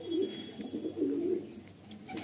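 Pet pigeons coo softly in a loft, two clear rolling coos close by over a faint background hum.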